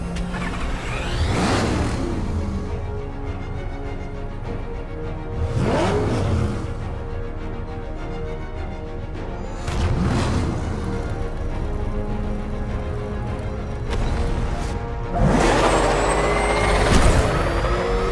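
Military vehicle in a Batman video game, driving during a police chase; heavy engine rumble with repeated loud whooshing passes and hissing air-brake-like bursts roughly every four seconds.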